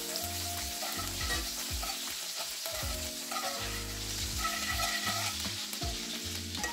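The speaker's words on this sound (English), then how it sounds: "Now I'm going to add a slice of butter." Butter melts in a skillet with a steady, close sizzle and frying crackle, laid over a low background hum, with no voices.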